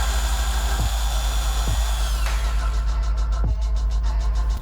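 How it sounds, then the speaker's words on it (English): A power drill bores into a wood slab, its steady motor whine running continuously with a few brief dips in speed as the bit works through the wood. "and drill the wood."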